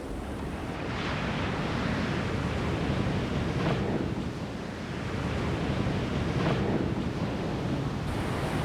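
Ocean waves crash steadily on a Hawaiian shore, a loud continuous roar of surf with periodic swells and wind buffeting the microphone.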